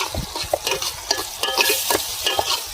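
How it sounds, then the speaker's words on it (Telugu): Tomatoes and onions with a pinch of salt being stirred in a cooking pot: close, busy scraping and clattering of a spoon against the bottom in irregular strokes, over a low sizzle, with no talk. "అడుగున మాడకుండా అయితే ఉంటుంది బాగా కలిపెట్టుకోవాలి"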